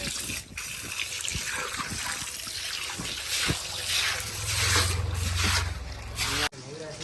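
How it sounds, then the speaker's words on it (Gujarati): Fresh water splashes and trickles while rinsing out a small cleaned tank, with a low rushing gush building midway and steady watery noise throughout, close by. "એકવાર આપણે નવા પાણીથી ધોઈ નાખીએ છીએ ધોઈ દઈએ આપણે"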